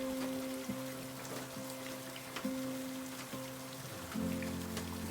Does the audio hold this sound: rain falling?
yes